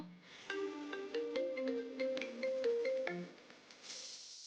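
A phone ringtone plays a short melodic tune of bright electronic notes, fairly quiet and alone, ending after a few seconds.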